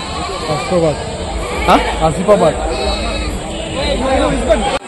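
Goats bleating repeatedly at a busy rural livestock market in Rajarampalli, several calls rising over constant crowd chatter and people talking nearby.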